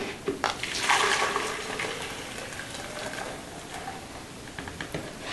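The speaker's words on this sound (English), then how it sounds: "And now I'm going to transfer the almond milk into my pitcher." Homemade almond milk poured steadily into a pitcher, a continuous close splashing, gurgling stream of liquid with a few small drips near the end.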